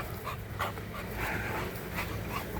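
Several dogs pant close by, quick breathy huffs running almost continuously, with short whimpering whines rising over the panting now and then; no one speaks.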